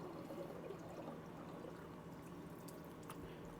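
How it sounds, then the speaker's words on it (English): Water pours and trickles steadily out of a homebrew barrel, a faint, continuous stream with no talk over it. "empty all the water out."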